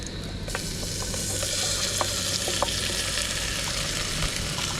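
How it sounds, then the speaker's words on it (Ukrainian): Tomatoes stew in a frying pan over fried onions, giving a steady close hiss of sizzling with faint occasional pops and stirring clicks, no voices. "Тушимо помідорки."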